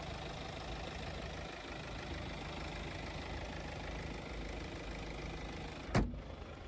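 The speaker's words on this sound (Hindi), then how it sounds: "तो ये था BMW B47 इंजन।" A BMW 2 Series 220i M Sport petrol car from 2022 with a B47 engine idling, a steady low hum heard up close with no talking, ending in a brief sharp click or knock.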